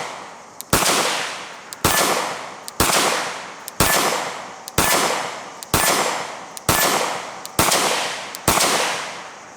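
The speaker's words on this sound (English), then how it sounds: "the gunshot is extremely loud" Powerful .22 caliber pistol firing at steel targets, nine sharp, very loud shots at a steady pace of roughly one per second, each followed by a decaying ring.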